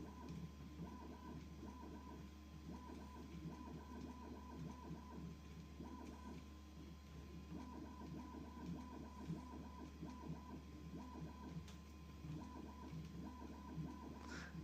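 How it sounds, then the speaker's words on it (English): A 3D printer converted into a pen plotter runs with a continuous mechanical whir and a low hum, its stepper motors chattering in rapid, uneven patterns at a low level close by. "the easiest way to turn your 3D printer into a pen plotter"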